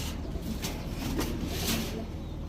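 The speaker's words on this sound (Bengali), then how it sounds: "দেখেন এগুলো হচ্ছে 27 কিলো ব্যাক করা এক জোড়া দুধ খাকি কবুতর" A pair of dudh khaki pigeons coo softly and low, a repeated murmuring call heard close up against a steady background hum.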